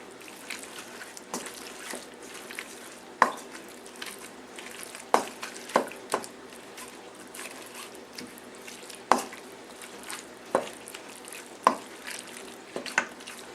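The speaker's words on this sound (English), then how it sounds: "I'm going to make sure I use my wooden spoon to kind of break up the tuna into smaller chunks" A wooden spoon stirs and breaks up tuna salad in a bowl, giving soft moist squishing with irregular faint taps and scrapes, close and quiet with no talking.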